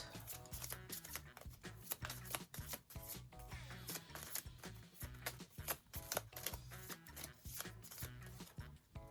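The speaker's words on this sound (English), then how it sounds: "Let's shuffle all the cards. Make sure they're well shuffled." Rapid riffling and snapping of playing cards being shuffled, repeated bursts in a steady rhythm, close and fairly loud with no talking.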